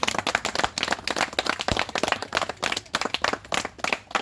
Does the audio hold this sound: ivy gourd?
no